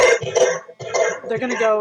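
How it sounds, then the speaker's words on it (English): A couple of harsh coughs and throat-clearing bursts, close and fairly loud, with a short break between them. "I just had a cough"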